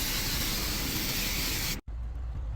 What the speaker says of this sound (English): In this clip, I'm spraying the top coat.